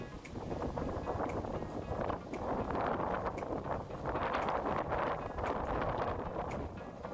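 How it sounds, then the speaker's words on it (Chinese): Strong wind gusting outdoors around a small adopted disabled stray dog, a loud continuous roar of wind buffeting the microphone with surging gusts and faint rustling throughout. "这么大的风，快把珍珠刮跑了！"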